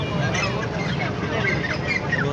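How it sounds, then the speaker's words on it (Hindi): Dense, loud clucking and honking of many chickens and other fowl fill a busy bird market, a continuous crowded din with no pauses. "ये महंगी मुर्गी।"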